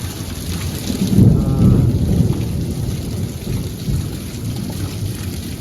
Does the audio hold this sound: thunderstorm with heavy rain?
yes